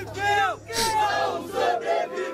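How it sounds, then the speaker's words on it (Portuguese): A crowd at a rap battle roars and shouts in several loud surging bursts, voices overlapping in energetic cheering and chanting, close and full. "Faz barulho pro JP"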